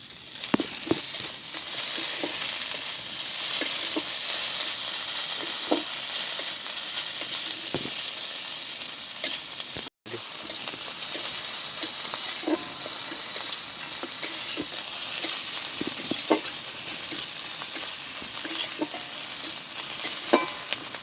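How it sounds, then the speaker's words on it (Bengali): Masala spice paste for a Bengali rohu fish curry with vegetables sizzling in a pan, a steady close frying hiss broken by scraping stirs and small ticks, with one brief dropout partway through. "মশলা আমার ভালোভাবে কষানো হয়ে গেছে।"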